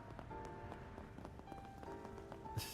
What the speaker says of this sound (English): Just listen to the sound of rain